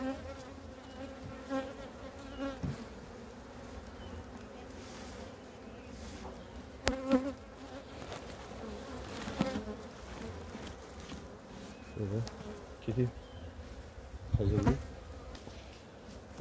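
Honeybees buzz steadily at an opened hive during November care and winter preparation, a dense continuous hum with occasional louder passes as individual bees fly close, and no talking.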